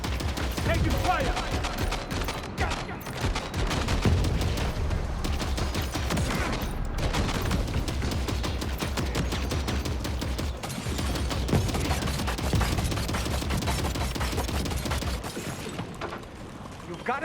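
Sustained gunfire in the video game Death Stranding 2, dense overlapping bursts of automatic shots and booms rolling continuously for many seconds, with occasional voices under the din.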